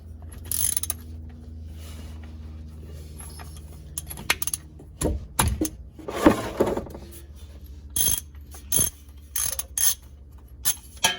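A ratchet works a 24 mm rear differential fill plug loose on a Subaru STI, giving bursts of rapid clicking and metallic clatter between quieter pauses, close up with no talking.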